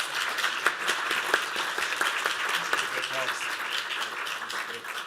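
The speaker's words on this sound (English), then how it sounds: "they deserve a big applause for these wonderful talks" Audience applause at a medical symposium on hereditary spastic paraplegia, a steady dense wash of clapping from a crowd indoors, sustained throughout with a few sharper claps standing out.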